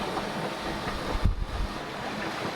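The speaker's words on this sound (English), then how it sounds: "The wind is strong here." Strong, steady wind roars while sailing the Gulf of Tadjoura off Djibouti, a dense, continuous rush with a brief gust-like swell in the middle and no talk over it.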